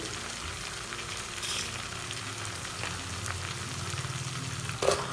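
Biryani masala fries in a pan with a steady, quiet sizzle, occasional light stirring scrapes, and a brief sharper clatter near the end.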